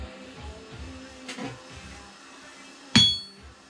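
A hammer strikes an anvil draped with chains: a softer tap, then one sharp, ringing clang that decays quickly, damped and slightly low in pitch.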